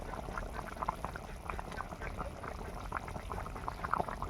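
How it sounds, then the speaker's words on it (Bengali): Broiler chicken curry simmering in a pot gives a steady close bubbling, with dense pops and small gurgles running continuously throughout. "কত সুন্দর ফুটছে।"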